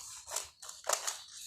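Scissors snipping through housecoat fabric, two short crisp cutting strokes close by in a quiet room.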